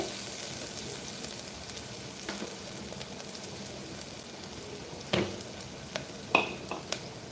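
Onions sizzle steadily in a hot pan while being sautéed for tomato rice, with occasional scraping and clinking of a spoon stirring against the metal.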